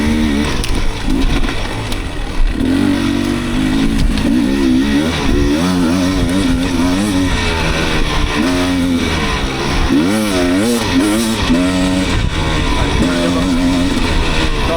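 An enduro motorcycle on a night enduro and hill climb at Rannu revs hard and close, its engine note repeatedly rising and falling in loud sweeping surges with a continuous throttle-driven roar.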